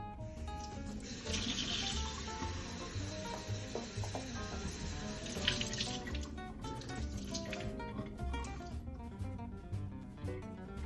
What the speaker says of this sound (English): Let me fill it up with water.